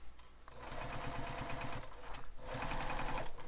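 A sewing machine runs in quick bursts, stitching the seam of a crossbody bag with rapid rhythmic mechanical ticking, pausing briefly between two runs before speeding up again.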